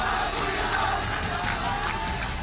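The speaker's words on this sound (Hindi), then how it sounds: "हजारों की भीड़ सड़क पर उतरकर कट्टरपंथियों के खिलाफ आवाज बुलंद कर रही है" A crowd of thousands of protesters in a Bangladesh street, raising a loud continuous roar of massed shouting and chanting voices that fills the scene without pause.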